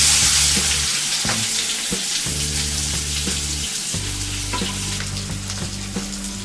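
Chopped onion frying in oil until golden produces a loud, dense sizzle throughout, with a low hum underneath and occasional stirring knocks, and no talk.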